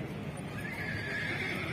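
A Nukra horse at a horse competition whinnies amid hoof clip-clop and a dense, noisy outdoor crowd background, heard without speech.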